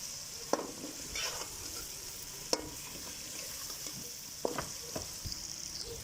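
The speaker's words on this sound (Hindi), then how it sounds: "थोड़ा सा अचार को पकाएंगे ताकि अचार का जो सा टेस्ट है वो मिक्स हो जाए सालन में" Pickle cooking in a curry base in a pan for chicken yakhni pulao, a soft continuous sizzle with a few sharp spoon clicks and scrapes spaced out as it is stirred.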